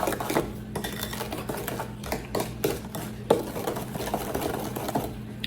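Banana almond muffin batter is mixed in a bowl, giving a steady run of clinks and scrapes of utensil against the bowl with small irregular knocks, close and moderately loud, with no talking.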